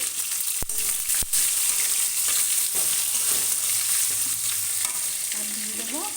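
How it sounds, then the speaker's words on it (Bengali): Chopped onion hits hot oil with garlic and sizzles loudly and continuously, with two sharp clinks of a utensil early on and stirring throughout. "এটা দিয়ে দিচ্ছি পেঁয়াজ কুচি"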